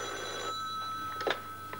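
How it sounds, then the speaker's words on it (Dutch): A telephone rings in a Dutch weather-service office in 1989, a steady electronic ring with sustained tones and a few sharper pulses near the end, heard alone without talk. "Bij het ministerie van Volksgezondheid, de ANWB en het KNMI komen duizenden bezorgde telefoontjes binnen."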